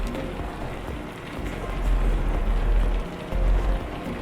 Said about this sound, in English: here we go. We got rain.